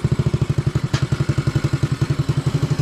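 A 2016 Maddog Honda Ruckus clone scooter with a freshly installed big bore kit idles low and steady, its single-cylinder engine thumping at an even, rapid beat close by, with one brief sharp click partway through and no talking.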